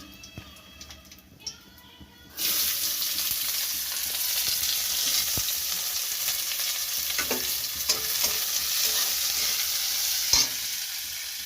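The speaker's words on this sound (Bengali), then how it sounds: "লঙ্কার ফোড়ন আর তেজপাতার ফোড়ন দেবো পেঁয়াজ দিচ্ছি" Onions hit hot oil after a chilli and bay leaf tempering, bursting into a loud, steady sizzle that fills the pan from the midpoint on, with a few clinks and scrapes of stirring.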